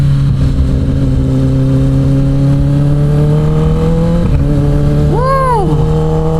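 2023 Kawasaki ZX10-R motorcycle accelerating hard with a quick shifter: a loud, steadily climbing engine drone, a sudden brief dip at an upshift, then a rising and falling whine, recorded close from the rider's position.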